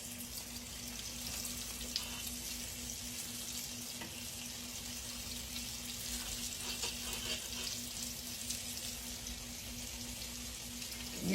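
Chicken gizzards frying in a pan on low heat, a steady, soft sizzle with a faint constant hum beneath, unbroken and without talk.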